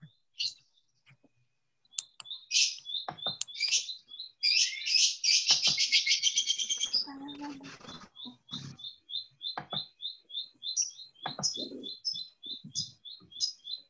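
Small birds chirp in rapid repeated high tweets and trills, close and fairly loud, with busier bursts of song in the middle and a voice speaking briefly underneath.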